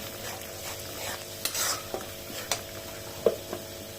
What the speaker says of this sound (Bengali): দিয়ে দিচ্ছি আদা পেস্ট, দিয়ে দিচ্ছি রসুন পেস্ট। আবার একটু নেড়ে চেড়ে নিই।